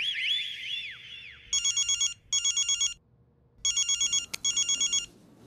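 An electronic telephone ringtone sounds in repeated bursts of rapid warbling tones with short pauses between them, loud and clear over a quiet indoor background in a Hindi TV comedy scene.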